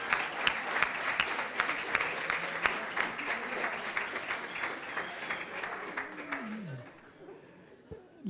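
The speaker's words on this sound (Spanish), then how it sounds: "aplaudan, aplaudan." Audience applause at a literary talk, a dense crackle of many hands clapping steadily for about seven seconds before fading out.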